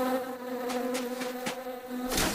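Bees hum around a hive in a steady, close buzz that holds throughout, with slight wavering, and no voices.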